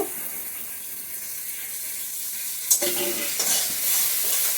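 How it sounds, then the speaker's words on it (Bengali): Ground spices, Kashmiri chili powder and ginger sautéed in a pan, a soft steady sizzle that jumps to a louder, brighter hiss near the midpoint with a scrape of stirring, then continues close and sustained, no voices. "সবগুলো মশলা, আদাটাও দিয়ে দিচ্ছি, দিয়ে সবগুলো একটু কষিয়ে নেব"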